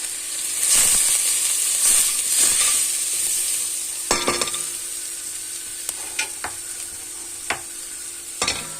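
Flour stirred into a hot frying pan during dinner cooking, with steady close sizzling and a spoon repeatedly scraping and clinking against the pan in uneven strokes.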